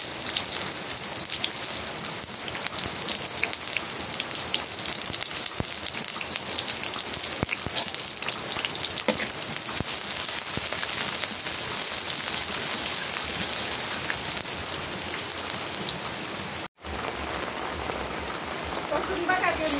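Steady rain pours down on a rainy morning, a dense, even patter with no breaks, heard up close and continuous throughout.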